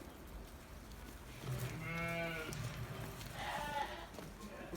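Bafra sheep bleating on a sheep farm, one clear wavering bleat followed by fainter ones, with a soft voice and background noise.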